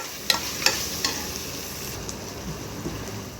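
Onions and aromatics sauté in oil in a pan for potato poori masala, giving a soft, continuous sizzle. A few sharp clinks of a spoon against the pan come early, and there is no speech.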